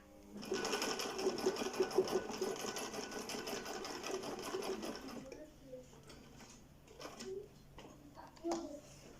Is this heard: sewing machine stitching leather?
yes